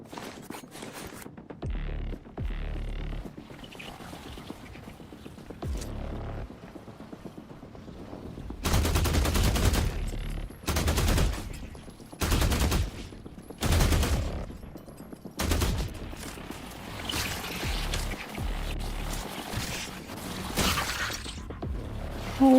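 Bursts of rifle and shotgun fire in The Last Caretaker video game: loud, sharp volleys in several clusters, with rapid repeated shots between quieter stretches and no talking.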